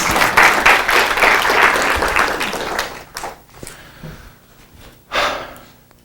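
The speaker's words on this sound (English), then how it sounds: "A round of applause for Google, please." A crowd applauds loudly for a few seconds, then the clapping fades, followed by a short burst of scattered claps near the end.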